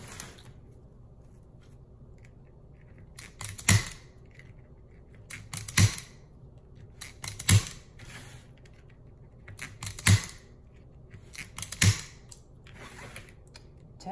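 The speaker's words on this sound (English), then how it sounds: "So I use a zip tie gun, which tightens and cuts it all at the same time." A zip tie gun tightens and cuts zip ties on a poinsettia wreath, giving five crisp mechanical snaps at a steady interval of about two seconds, with quiet handling noise between them.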